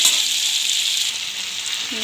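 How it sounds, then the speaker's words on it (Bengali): Chopped vegetables sizzle steadily in hot oil in a pan while a Bengali water spinach dish is being cooked, a continuous close hiss with no clear talking. "সবজিগুলো প্রায় ভাজা ভাজা হয়ে এসছে।"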